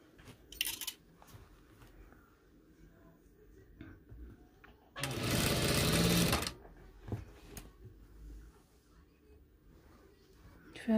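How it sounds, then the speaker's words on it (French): Sewing machine stitching a headband on a jilbab cape, one steady buzzing run of about a second and a half amid quiet handling clicks and rustles. "Je couds le bandeau au niveau de la tête à 1 cm."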